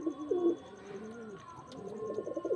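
Short-sized pigeons cooing softly in a loft, low rolling coos rising and falling across a few seconds, with faint chirps and background noise.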